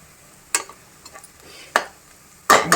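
A spatula stirs and scrapes onions frying in a pan for egg masala curry, giving three distinct clanks over a faint background sizzle. Close by, with quiet gaps between strokes.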